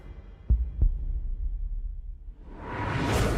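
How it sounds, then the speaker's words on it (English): Two deep heartbeat thumps in quick succession, then a rising whoosh that swells to a loud rush at the end, with no voices. "I felt like he could hear my heartbeat."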